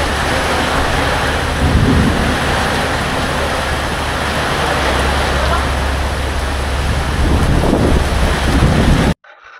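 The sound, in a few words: strong wind and heavy rain storm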